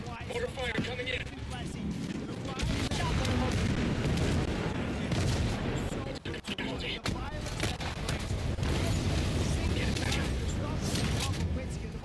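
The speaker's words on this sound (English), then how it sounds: "Mortar fire coming in." Incoming mortar fire pounds a video game battlefield in dense, continuous, loud booming blasts and rumble that barely let up, with one brief lull partway through.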